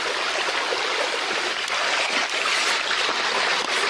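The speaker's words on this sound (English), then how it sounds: "Look at this beautiful creek." A small forest creek in the George Washington National Forest flows steadily nearby, a continuous close rushing babble with no voices over it.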